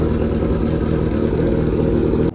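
A motorbike engine idles loudly and steadily close by, a continuous low throbbing rumble that cuts off abruptly at the end.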